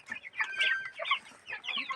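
Broiler chickens on a farm cluck and chirp in short, busy bursts, several birds calling close by at a moderate level with no speech over them.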